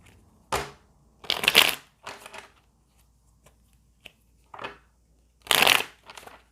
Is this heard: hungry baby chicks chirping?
no